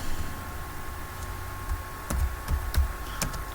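Keys clack on a computer keyboard as an SQL command is typed: a quiet, irregular run of separate keystrokes over a faint steady hum, with no talking.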